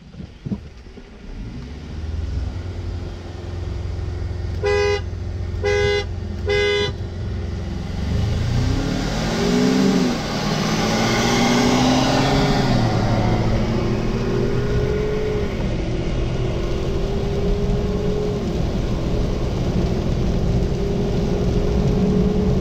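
A 2019 Ford Ranger and a 2017 Ford F-150 drag racing from a dig: three short horn beeps for the countdown, then engines roar and rev hard through gear changes, holding loud and close for the rest of the run.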